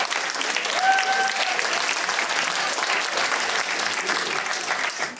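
Sustained applause from a comedy club audience at a dark-humour stand-up show, a dense steady wash of clapping at full strength that fades slightly at the end, with no talk over it.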